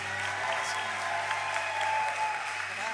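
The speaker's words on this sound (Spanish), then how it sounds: "Ese aplauso al Señor de los milagros" Steady applause from a congregation in a church during a Catholic Mass, a continuous wash of clapping with a sustained tone underneath.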